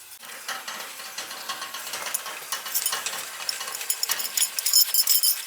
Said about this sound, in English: Maybe I could take this nut off and get a little bit more.